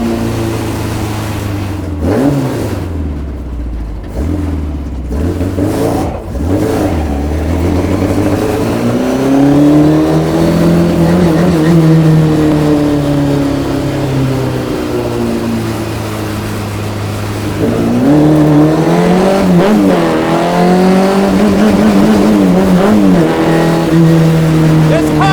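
A 1965 Morris Mini Cooper S race car engine revs hard and accelerates, loud and close, pitch climbing and falling through several gear pulls, with a brief sharp lull before a final strong surge.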